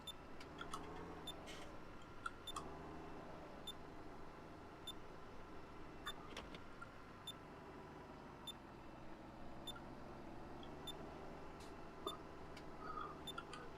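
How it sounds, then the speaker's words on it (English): A tractor's automatic seeder monitor sounds a faint, regular beeping warning over a steady engine drone inside the cab. "You hear the beep there, that's my auto system informing me that the seeder is not down."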